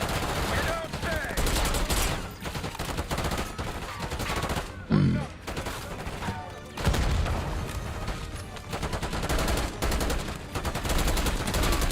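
Video game gunfire during a heavy lockdown scene, with bursts of automatic fire and shots raining near and loud against a fence, nearly continuous across the clip with a brief lull midway.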